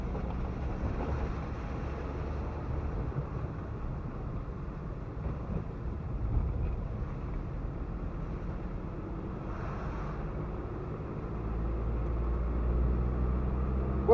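Small Perodua Nippa car pushing through snow drifts, its engine a steady low rumble with broad wind-like roar and crunching road noise, continuous and close, rising slightly toward the end.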